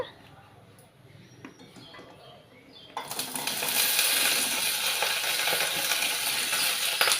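Cut okra pieces dropped into hot oil for a tomato curry burst into loud, steady sizzling frying that fills the pan and holds continuously, following a quieter stretch of faint kitchen sounds.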